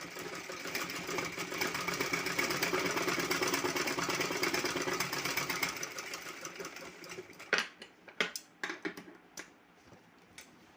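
A sewing machine stitches a reused shopping bag in a fast, rattling run of needle strokes that slows into a few separate clicks and thumps as it stops.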